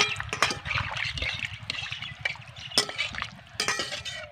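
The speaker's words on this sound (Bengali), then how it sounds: "এবার আমি অল্প করে জল দিয়ে দেব" Potato curry for alur dom being stirred in a pot with a little water, wet stirring and scraping with occasional spoon clinks against the metal, steady and close.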